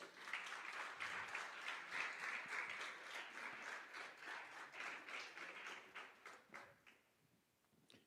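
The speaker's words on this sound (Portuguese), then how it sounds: "Você pode aplaudir o Senhor?" A church congregation applauds during a sermon, a steady wash of many hands clapping that carries for most of the stretch before thinning and fading out near the end.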